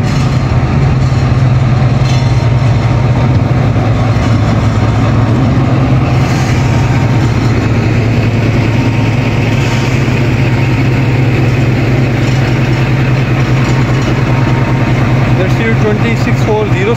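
A ZCU-20 diesel locomotive, number 6407, idles at Peshawar railway station before hauling the Khyber Mail, a loud continuous low engine rumble with a steady drone throughout, close by, under someone talking.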